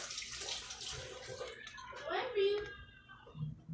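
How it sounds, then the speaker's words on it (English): Hands washed under a running kitchen tap, quiet splashing water faintly heard beneath nearby talking, including a voice. "Let me wash my hands."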